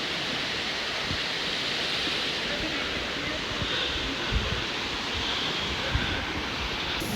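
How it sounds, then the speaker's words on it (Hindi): The Jibhi waterfall runs full after heavy rain, a steady broad rushing roar with a few faint thuds, close and continuous, no talking. "this is the Jibi waterfall"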